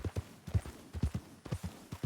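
Horse hooves galloping in the video game Red Dead Redemption, rapid rhythmic clip-clop beats in repeating groups of three or four, close and clear with no talking.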